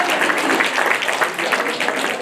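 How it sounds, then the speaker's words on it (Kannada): A crowd claps at a release event for five Kannada books, a dense, continuous burst of applause filling the hall at close range for a couple of seconds. "ನೀವೆಲ್ಲ ಚಪ್ಪಾಳೆ ತಟ್ಟೋದು ನೋಡಿದ್ರೆ"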